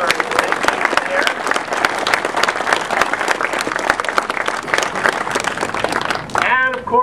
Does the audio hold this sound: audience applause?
yes